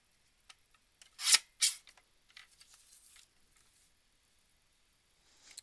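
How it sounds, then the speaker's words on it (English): Scissors or a paper trimmer cut card stock down for a handmade card, two crisp close snips followed by faint rustling and small handling ticks in a quiet room. "So we'll just cut this down a little bit."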